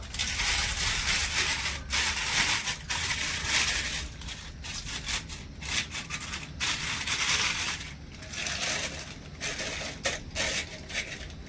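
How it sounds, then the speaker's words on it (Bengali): Gram flour batter is spooned and squeezed into a plastic piping bag, producing close crinkling, rustling and squishing sounds in irregular bursts with short pauses. "এবার আমি পাইপিং ব্যাগের মধ্যে বেসনের গোড়াটা ভরে নেবো"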